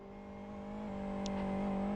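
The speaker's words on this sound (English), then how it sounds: "You can hear it. It's got engine damage." A damaged race car engine in a Live for Speed video game endurance race hums steadily at constant pitch, slightly rough, with the level gradually rising; no voices.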